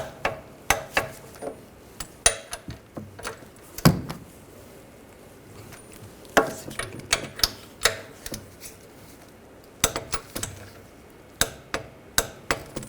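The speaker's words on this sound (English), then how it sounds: "Now we're going to torque these bolts to 49 foot-pounds" Rear wheel bearing job on a 2006-2010 BMW 550i, bolts torqued to 49 foot-pounds: a series of sharp metallic clicks and clunks in irregular bursts, close and fairly quiet, with no talk.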